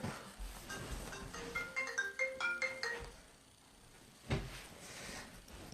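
A phone rings indoors in a quiet home schoolroom, a faint melodic ringtone tune followed by soft knocks and handling sounds.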